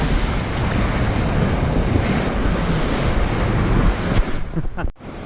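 Rough lake waves surge and splash near a kayak along a rocky lakeshore, a loud continuous wash mixed with wind buffeting the microphone, cutting off abruptly near the end.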